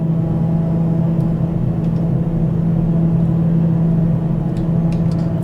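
A TBM 930 turboprop engine in Microsoft Flight Simulator 2020 holds a steady, loud droning hum with a constant low tone throughout, with no talk.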